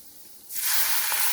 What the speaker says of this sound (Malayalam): ചെറിയ ഇച്ചിരി ചൂടുവെള്ളം ഒഴിച്ചു കൊടുക്കാം